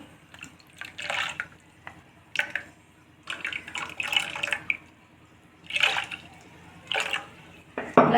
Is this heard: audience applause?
no